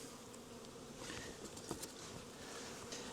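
Faint, steady buzzing of many honeybees leaving the hive on an early-spring cleansing flight after winter, a soft continuous hum with no voices.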